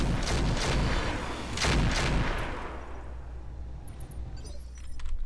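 Mech weapons firing in the battle game Roguetech, a cluster of heavy loud blasts with clattering impacts over the first two seconds, trailing off into a fading rumble and faint metallic chatter.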